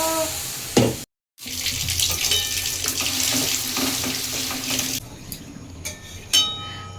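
Hot milk poured into a pan of fried vermicelli for semai payesh makes a steady, close liquid splashing and gurgling for several seconds before fading to quieter bubbling and clinks.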